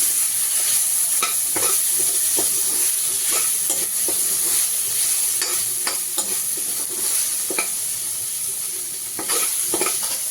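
Pieces of chicken fry in a pan under continuous loud sizzling, while a utensil stirs and scrapes them in regular close strokes, with no voices.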